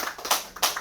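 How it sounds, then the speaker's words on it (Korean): Brief burst of applause from an audience at a sales team meeting, a few sharp clustered claps rising and falling over under a second. "큰 박수로"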